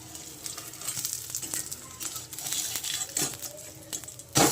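Handvo, a Gujarati vegetable batter cake topped with sesame, fries in a covered pan with a steady soft sizzle and crackle, punctuated by small pops and a louder clatter near the end.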